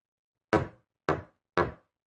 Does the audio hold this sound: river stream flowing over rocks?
no